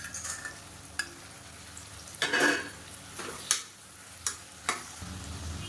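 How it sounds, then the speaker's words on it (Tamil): Halved soya chunks sautéed in ghee crackle softly in a pan while a spoon scrapes and knocks against the metal in several sharp, separate strokes over a continuous low sizzle. "இப்போ அந்த எண்ணெயிலேயே இந்த சோயா சங்க்ஸ் வந்து நல்லா வதக்கியாச்சு"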